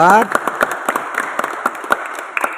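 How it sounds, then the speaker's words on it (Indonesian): Scattered applause for group 4 at a church youth meeting of HKBP Maranatha: a few people clap in an irregular, light patter for about two seconds, following a brief voice at the start. "Kasih aplaus buat grup 4"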